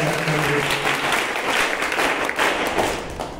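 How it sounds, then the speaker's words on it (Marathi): Applause from a school reunion gathering of former students and friends, a dense burst of many hands clapping together, loud and sustained before tapering slightly at the end. "खरोखरच विद्यार्थी मित्र या सर्व मैत्रीसाठी एकदा जोरदार टाळ्या."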